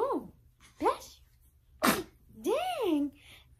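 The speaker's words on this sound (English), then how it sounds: "Are you sneezing?" A baby gives a sharp sneeze amid high, sing-song coos and voiced sounds from an adult nearby, all close and moderately loud.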